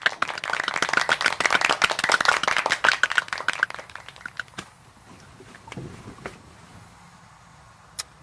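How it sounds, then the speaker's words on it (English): Hand claps from an audience greeting guest Tracy Davis on an underground kitchen show, starting as a fairly dense burst of clapping that thins out after a few seconds into scattered, fading claps. "can I get a motherfucking hand clap for my boy Tracy Davis?"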